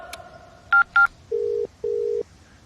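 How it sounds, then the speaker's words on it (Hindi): A phone call in a film: a short burst of keypad dialing beeps, then two long, even ringback tones pulsing on the line with a pause between, clear over faint background. "रिंग जा रही है सर।"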